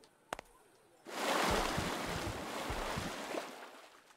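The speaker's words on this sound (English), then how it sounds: "Okay, jump into the water." Water splashing and rushing in the VR game Bodies of Water after a jump in, a loud broad surge of waves and churning water that holds steady after a faint click and then eases off near the end.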